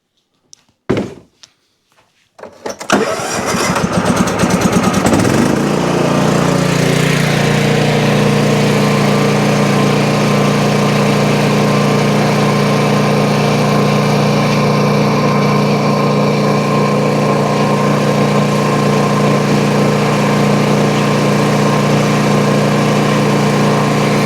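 Engine on a Toro zero-turn riding mower being started, catching after a few clunks and cranking bursts, then settling into a loud, steady idle that runs on close by with no talk.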